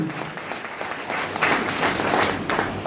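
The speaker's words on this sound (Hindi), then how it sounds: "एक बार जोरदार खतरनाक ताली होनी चाहिए" A crowd at a success celebration and award ceremony in Bhabua claps vigorously in continuous applause. It is close and loud and swells slightly toward the end.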